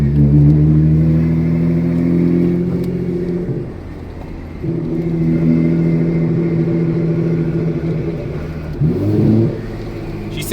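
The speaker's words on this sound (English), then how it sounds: "You can hear the whine of the transmission." A car with an HKS exhaust revs loudly at close range, its engine rising and falling twice and carrying a steady transmission whine through each pull.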